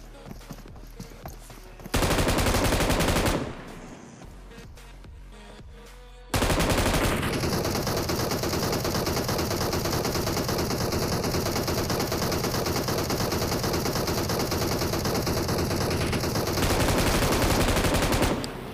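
AKM rifle fire in the BGMI mobile shooter game, with bursts of rapid automatic shots, a short pause, then a long sustained stream of loud gunfire and game effects.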